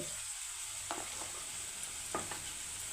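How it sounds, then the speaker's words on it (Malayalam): Shallots with chilli powder frying in a pan while being crushed, a faint steady sizzle with two or three soft scraping strokes, close and quiet with no talking. "ചെറിയ ഉള്ളിയും കൂടെ ഇങ്ങനെ ഇട്ട് കൊടുത്ത് ഒന്ന് ക്രഷ് ചെയ്ത് കൊണ്ടുവരാവേ"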